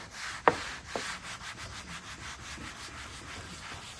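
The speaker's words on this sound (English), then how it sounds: "We're gonna take our trusty boar's hair brush. We're going to just back foam that a little bit, and just work it." A boar's hair brush scrubs foamed cleaner into the vinyl interior of a 1966 Chevy Impala barn find, giving soft, steady rubbing strokes with two sharper knocks near the start, close and fairly quiet.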